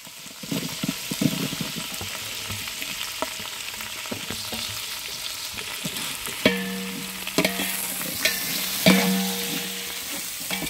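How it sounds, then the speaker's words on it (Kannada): Onions fry with mint in a pan for village-style tomato bath, a steady sizzle broken by repeated clinks and scrapes of a stirring spoon, close up and without talk. "ಪುದೀನ ಫ್ರೈ ಆದ್ಮೇಲೆ ಈರುಳ್ಳಿ ಹಾಕೊಳ್ಳಿ."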